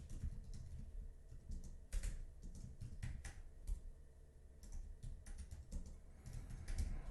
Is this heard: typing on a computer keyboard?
yes